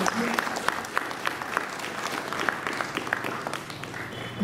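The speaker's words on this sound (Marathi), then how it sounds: "जोरदार टाळ्या." An audience at a talk on meditation and success claps steadily to honour a guest, a dense, moderately loud round of applause with some voices mixed in.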